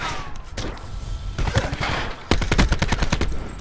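Rapid automatic gunfire in Black Ops 4, with several bursts of sharp, close shots, sparse at first and then a fast crackling run of rounds near the end, loud and alone without talk.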